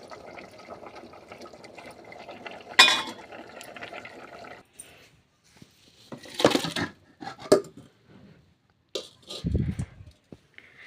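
Water splashes and trickles through a strainer as water is drained from cooked greens, with metal clinks of pots, fairly close and quiet, with a few louder pours.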